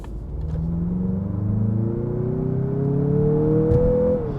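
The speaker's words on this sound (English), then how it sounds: "the rev matching downshifts really work well" A 2023 Mazda CX-50 SUV engine rumbles steadily from inside the cabin, its pitch climbing smoothly as revs rise during rev-matched downshifts, then dropping off near the end.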